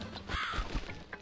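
A single harsh crow caw from the game Cat Lady, close and clear, rising briefly over a quiet, dark ambient backdrop.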